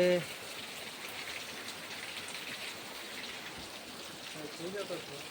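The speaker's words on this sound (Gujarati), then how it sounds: "વરસાદ આવી ગયો છે" Steady rain falls over a rural village where cows are kept, a continuous soft hiss of drops that stays even throughout, with a brief louder patch at the very start.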